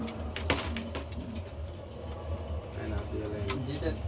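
Racing pigeons coo softly in a loft, low throaty calls rising and falling over a constant background hum.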